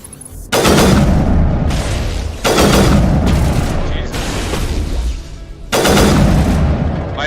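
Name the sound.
sniper rifle shots in the video game Mass Effect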